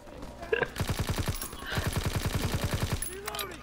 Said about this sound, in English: Shotgun. It's very powerful.